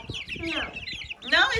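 Chickens cluck and squawk close by in a busy, overlapping flurry of calls, with faint talk underneath.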